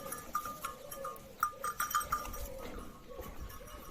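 Several sheep bleating in short, overlapping calls over a busy outdoor background, with scattered clanks and shuffling nearby.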